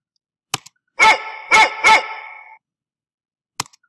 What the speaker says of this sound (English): okay, now my dog is barking.